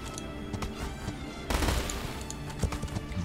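Cannon fire in the World War Selection strategy game, a scatter of sharp gunshot-like cracks with one heavier burst of blasts midway, over a faint busy battle backdrop.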